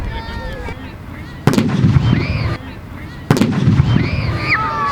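A T-34-85 tank's 85mm gun fires twice at a military vehicle show, each shot a sharp heavy blast with a rumbling tail. Whistling and cheering from the crowd rise around the shots, along with talk.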